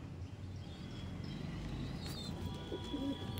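Black-seed Madrasi pigeons in a home loft coo softly, with one faint coo near the end over a low background murmur and a few distant chirps.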